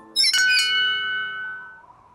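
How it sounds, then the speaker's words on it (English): Cartoon bell rung at a castle in the clouds: two quick bright metallic strikes close together, then a long clear ringing tone that slowly fades out, with no talk over it. "I'll ring the bell."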